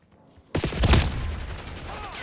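Gunfire in the Call of Duty Black Ops 6 beta: after a quiet moment, a sudden loud fusillade of rapid shots breaks out and rings on with dense, echoing crackle.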